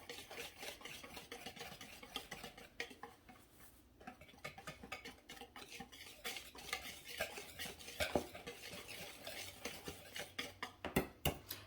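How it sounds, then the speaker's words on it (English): Flour and baking soda whisked together in a bowl for white chocolate chip cranberry pistachio cookie dough, a quick continuous rattle of metal whisk against the bowl, close and fairly quiet, with no talking. "I'm just going to kind of whisk that together here a little bit."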